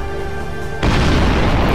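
Cannon fire in the space video game Sunrider erupts as one sudden, loud explosive boom that cuts in after a steady tonal hum and then rumbles on broadly.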